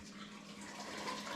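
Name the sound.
draining soup broth from a pot through a strainer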